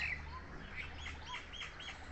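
Small garden birds, a bulbul and a sunbird among bottlebrush flowers in Pakistan, give quiet, repeated high chirps and tweets in a short irregular series over soft background hiss.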